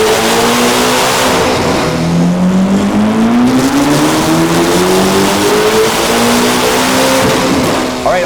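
A Corvette C8 ZR1 with an aftermarket exhaust and a 93 octane tune revs hard on a chassis dyno, its loud close engine note climbing steadily in pitch and then holding high.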